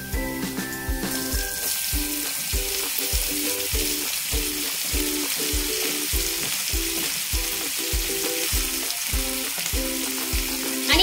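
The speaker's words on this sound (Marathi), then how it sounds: "हाय फ्लेमवरच आपण जवळपास 4 ते 5 मिनिट ही भेंडी मस्त परतून घेणार आहोत।" Okra being stir-fried in hot oil with browned garlic over a high flame, a steady loud sizzle running throughout under rhythmic spatula scrapes and stirring knocks, with background music and no talk.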